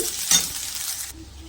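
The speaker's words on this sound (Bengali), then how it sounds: "চলো এটা একটু ঘেঁটে ঘেঁটে নিই একটু ভাজা ভাজা করে নিয়েই" Slit green chillies with peanut powder being stirred and fried in a pan, a short burst of sizzling with a brief scrape of stirring, close and fairly loud, ending abruptly.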